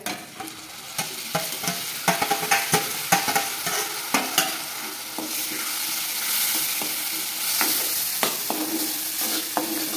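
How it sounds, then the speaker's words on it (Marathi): Ground cumin and mustard go into hot oil in a frying pan, a close sizzle broken by repeated clicking stirs and scrapes, with the frying hiss swelling toward the end and no talking. "वाटलेलं आपण जिरा आणि मोहरीचं हे टाकूया."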